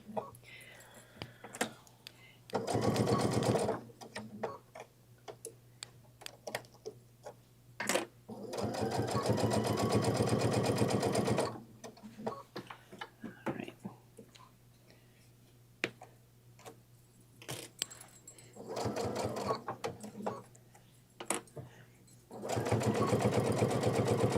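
A sewing machine stitches a seam on a bag in several bursts of rapid, steady mechanical whirring lasting a few seconds each, with quiet handling clicks and a low voice in the pauses between.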